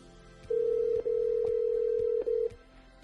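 Phone call ringing out through a HomePod Mini smart speaker while an iPhone is nearby: a steady electronic ring tone comes in two long bursts with a brief break, loud and close, with no talking.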